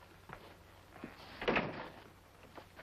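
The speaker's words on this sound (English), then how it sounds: "Close the door." A single door is shut in an old radio drama, a faint thud and click in the middle of an otherwise quiet passage.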